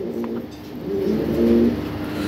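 A pair of red-beaked European Lahore pigeons coo in low, drawn-out murmurs close by, the cooing swelling slightly midway over faint background rumble, with no talk.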